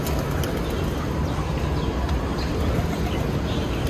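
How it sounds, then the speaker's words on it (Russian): Pigeons at Batu Caves near Kuala Lumpur coo amid a dense, steady wash of outdoor crowd noise and bustle, the soft calls mixed low in the busy ambience rather than standing out alone. "Очень много голубей"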